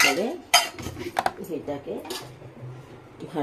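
A metal plate knocked and shifted about while being greased with a little ghee for semolina halwa, giving clattering dish-and-cutlery clinks in uneven bursts close by, with some faint talk in the background.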